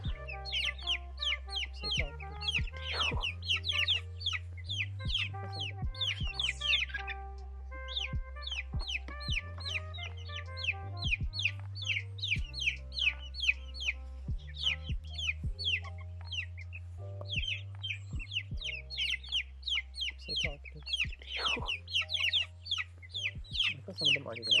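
Four-week-old chicks out on open ground for the first time, clucking and peeping in a busy, continuous chorus of many birds, with a low steady hum beneath.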